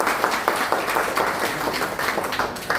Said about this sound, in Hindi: एक बार जोरदार तालियां हम चाहेंगे।